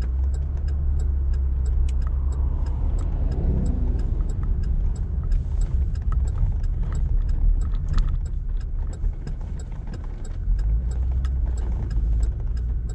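A car passes on a street in Tucson, its engine and road noise a steady hum that swells around the middle and fades again, with small clinks over the top.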